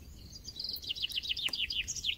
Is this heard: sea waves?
no